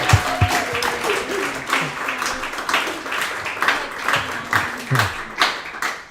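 Applause and clapping from a small group at a girls' soccer interview session, a loose patter of hands lasting several seconds with a few louder bursts, faint voices mixed in.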